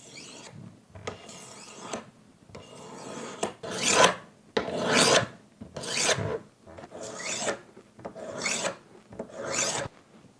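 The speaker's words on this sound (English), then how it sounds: "we got our knife sharpened nicely" A kitchen knife being sharpened with about nine rhythmic rasping strokes, each a short scraping pass that swells and fades, close and clear with no speech.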